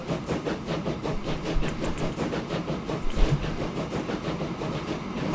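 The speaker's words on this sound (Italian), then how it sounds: "È partito il treno." A train departs in the Train Fever simulation game, with a steady rhythmic clatter of wheels and a low engine rumble rolling on at an even, moderate loudness, with no voices.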